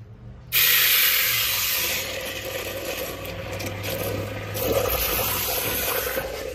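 Water suddenly starts rushing and hissing through a 2006 Toyota Tacoma radiator during a fresh-water flush, a loud steady spray that continues without pause.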